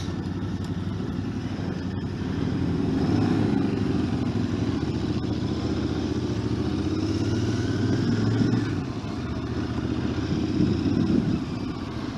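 A Royal Enfield Interceptor motorcycle being ridden on a wet road, its engine a steady throaty drone with wind rush and a slight swell midway, continuous and close.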